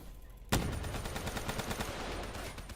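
Automatic fire from the AN assault rifle in the video game Black Ops 3: a sharp opening shot followed by a fast, evenly spaced burst of loud rounds that continues to the end.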